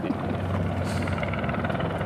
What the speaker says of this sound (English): Now we need that helicopter to stay there to give us a bit more wind and push us forward.